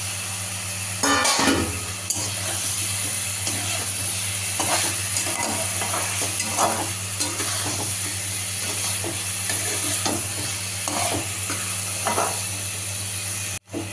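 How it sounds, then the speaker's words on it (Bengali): Potatoes fry in hot spiced oil, a continuous sizzle with repeated scraping and clanking of a spoon stirring the pan, close up and steady throughout. "মশলা হয়ে গেছে তেল ছেড়ে দিয়েছি এবার ওর মধ্যে এই যে আলুটা দিয়ে দেবো"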